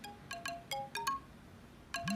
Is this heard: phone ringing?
yes